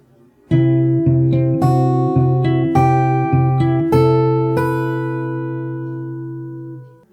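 Fingerstyle acoustic guitar part, a steady arpeggio of plucked notes over a ringing low string, about a dozen notes before the last chord sustains and fades, close and alone.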